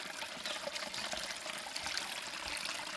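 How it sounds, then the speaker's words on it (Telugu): Clear water rushes and pours continuously at a forest waterfall in the hills of India, a steady, close splashing with no voices. "వాటర్ చూడండి ఎంత ప్యూరిఫ్గా వాటర్ వస్తున్నాయో"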